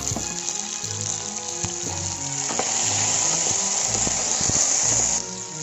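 Tomatoes fry in a tablespoon of oil in a pan for coconut chutney, a loud, bright, continuous sizzle with a few soft clinks over faint background music.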